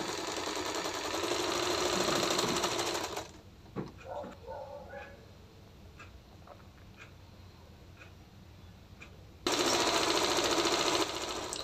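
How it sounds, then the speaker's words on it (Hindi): Sewing machine stitching salwar fabric parts: a loud, rapid mechanical run for about three seconds, then a quieter pause with light clicks and fabric handling, before another loud burst of stitching near the end. "अब आप यहाँ पर ऊपर तक सिलाई लगाते चले जाएंगे।"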